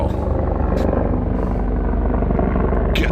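A helicopter flies low overhead on a Saturday night in Las Vegas, its loud, steady rotor thump pulsing continuously and filling the scene with no talk over it.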